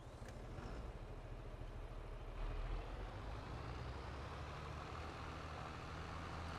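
A tractor engine idles in Farming Simulator 22, producing a continuous low diesel rumble at steady volume, with no speech over it.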